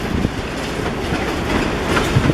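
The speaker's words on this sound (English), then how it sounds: "another short train, actually" Short freight train of Norfolk and Western covered hoppers rolling past in Roanoke, a steady nearby rumble with faint clickety-clack of wheels on rail joints throughout, no voices.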